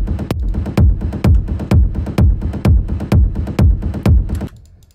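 Punchy techno kick drum thumps in a steady four-on-the-floor beat over a rumbling bass, loud and close, stopping abruptly near the end.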